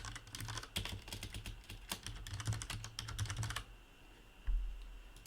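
Quick, close keystrokes on a computer keyboard as a URL and password are typed in: a fast, uneven run of light clicks that stops, then one heavier thump, all quiet and with no talking.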